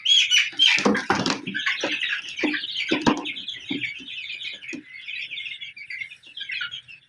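Forty-day-old Fayoumi chickens on a poultry farm keep up a dense, continuous chorus of high peeping and chirping calls, close and fairly loud, with no voices over them.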